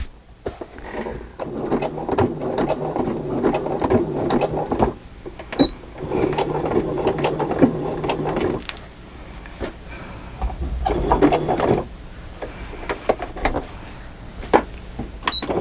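A sewing machine stitches a fabric journal cover in several separate runs, each a steady close whir lasting a few seconds, with pauses of handling noise and clicks between them.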